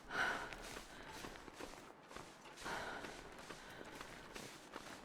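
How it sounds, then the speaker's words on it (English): Steady, rhythmic breathing of a character in the survival game The Long Dark, soft inhales and exhales repeating in slow cycles, faint and close. "Listen to that steady breathing."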